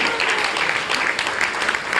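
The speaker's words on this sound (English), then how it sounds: "Give them a round of applause, ladies and gentlemen." Audience applause rings out at an inter-varsity debate, a dense steady clapping from a crowd filling the whole short stretch.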